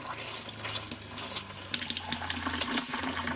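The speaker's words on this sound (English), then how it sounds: "I'm gonna turn on the cold water, and it's gonna be pulling antifreeze out of there" Water running from the cold tap of an Airstream-style RV as the water pump pulls antifreeze through the lines, a steady close hiss with a low pump hum underneath.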